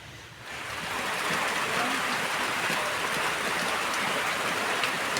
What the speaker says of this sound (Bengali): বহু প্রতীক্ষার পর এখন বৃষ্টি নামতেছে